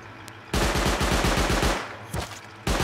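Rapid automatic gunfire in the survival game Rust, a dense burst of evenly spaced shots running about a second and a half, then a short pause and another shot, loud and close with no voices.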